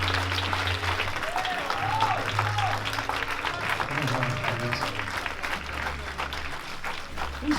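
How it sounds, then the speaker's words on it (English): Steady crowd clapping carries on at a church ministry gathering, moderately loud and continuous, while someone speaks over it and low hum and music tones run underneath. "y'all got to clap till they get down the steps"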